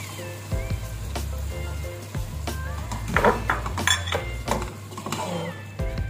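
Meat chili with tomatoes being stirred in a cooking pot at home, a spoon scraping and clinking against the metal steadily over a low background hum.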